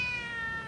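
A kitten meows in a short, steady cry that holds for under a second, close and clear with a thin high tone and no talking over it.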